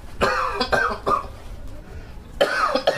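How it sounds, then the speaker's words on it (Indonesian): A man short of breath coughs in several harsh, rough bursts close to the microphone. A short pause separates the first cluster of coughs from another burst near the end. "Batuk Pak RT sesek nih"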